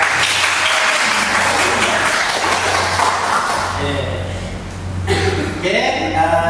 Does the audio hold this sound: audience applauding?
yes